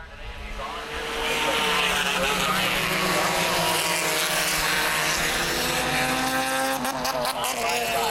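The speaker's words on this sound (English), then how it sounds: "Crump goes to the inside of Bobby Smith for third." Front-wheel-drive compact race cars roar loudly and continuously around an asphalt oval, engines droning close by with rising and falling pitch as they pass.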